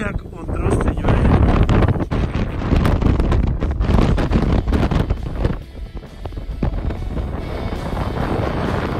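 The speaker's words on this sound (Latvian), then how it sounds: "Drusciņu snieg un drusciņu vēja." Wind blows hard and roars continuously over the microphone on a snowy ski slope in the 3 Valleys, loud throughout and easing slightly near the end, with voices faintly audible.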